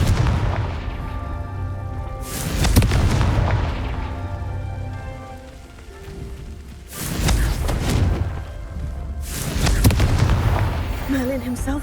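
Confringo fire spell cast in the Hogwarts Legacy video game, heard as two booming blasts a few seconds apart, each with a sharp onset and a rumbling tail, over a steady orchestral game score.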